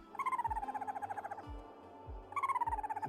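Creatures in the video game Rimworld give repeated warbling, hooting chirps in two bursts, with soft low thumps in between, fairly close and clear with no talk.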